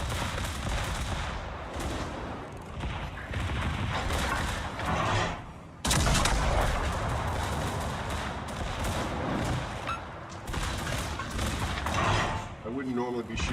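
Naval gunfire in World of Warships: loud, heavy salvos and booming impacts over continuous game noise, with a sharp blast partway through and talk mixed in.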